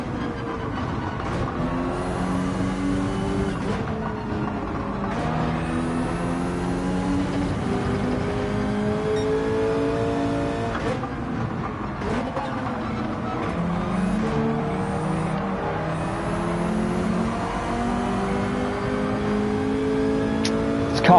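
The engine of a Subaru BRZ race car in Gran Turismo, in an online race at Dragon Trail Gardens in wet weather, revs up and down through gear changes, loud and continuous, with other cars droning nearby.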